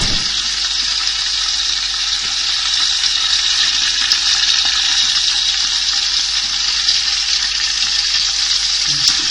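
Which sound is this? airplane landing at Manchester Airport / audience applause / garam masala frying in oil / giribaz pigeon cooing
garam masala frying in oil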